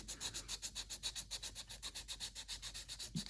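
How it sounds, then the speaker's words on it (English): Steady back-and-forth sanding of epoxy putty on a carved wooden duck decoy with 150 grit sandpaper, a rhythmic scratchy rub repeating several times a second, close and moderately quiet, no voices. "take some 150 grit sandpaper and cover the eye with my thumb and just use this to smooth out the putty"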